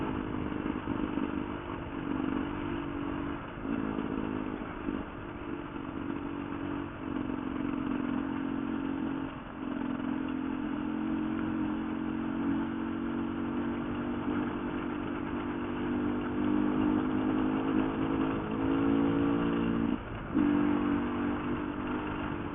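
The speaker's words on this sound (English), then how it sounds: "The exhaust, my bike is so much quieter without the hide on." A dirt bike engine runs steadily while riding at an even throttle, its exhaust giving a continuous mid-pitched drone with slight rises and small clatters throughout.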